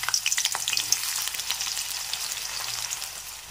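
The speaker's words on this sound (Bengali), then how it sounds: "পেঁয়াজটা একটু ভালো করে ভেজে নিতে হবে।" Chopped onions fry steadily in hot oil in a wok, a dense continuous crackle with scattered sharper pops, close and fairly loud with no voices.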